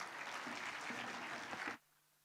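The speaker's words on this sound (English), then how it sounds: "And we need more claps." Conference attendees applaud as a guest professor is invited on stage at an Islamic economics and finance event, a fairly soft wash of clapping that stops abruptly after under two seconds, leaving quiet room tone.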